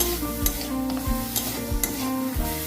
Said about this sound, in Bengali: মটনটা একটু নাড়িয়ে নিতে হবে